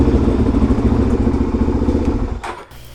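A Suzuki DRZ400 motorcycle engine roars loudly and close during a hard 0 to 60 run, then its rumble drops off sharply near the end.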